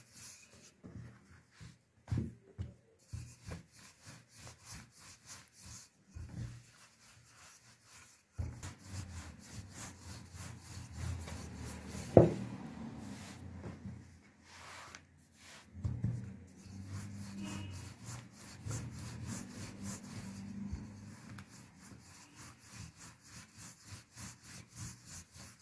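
A rolling pin working thin börek dough in the kitchen gives soft, rhythmic rubbing and rolling strokes, quiet and close, repeating steadily with short pauses between passes.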